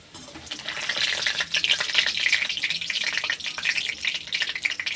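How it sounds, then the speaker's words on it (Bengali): Food frying in hot oil in a home kitchen until reddish-brown, while making egg biryani, a steady close sizzle and crackle running throughout with no talk. "এইরকম লাল লাল করে ভেজে নিয়েছি।"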